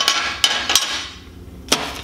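Bushings are hammered into metal weld positioner gearbox plates: a few sharp, ringing metallic strikes, close and loud, spaced irregularly with short gaps between them.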